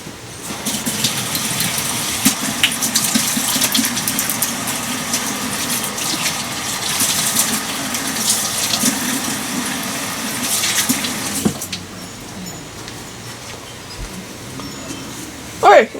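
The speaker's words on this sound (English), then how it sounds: "Let me wash my hands real quick." Tap water runs steadily as hands are washed in a home kitchen, a continuous hissing splash that stops abruptly near the end, followed by a brief clatter.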